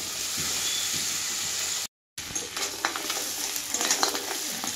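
Crab cooking in a pan, a steady bright sizzle of frying with stirring scrapes, a brief dropout midway, then louder crackling and scraping, close up with no talk.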